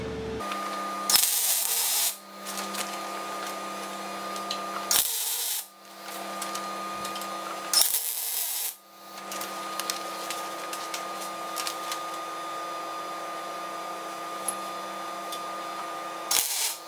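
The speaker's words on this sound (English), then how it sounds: "I have to grind that down now." Grinding down a tack weld on metal: three harsh, loud bursts of grinding, each lasting a second or so, separated by stretches of steady low hum.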